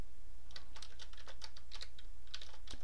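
Quick irregular keystrokes on a computer keyboard while code is typed into a spreadsheet macro, a steady run of close, crisp clicks over a low hum, with no voices.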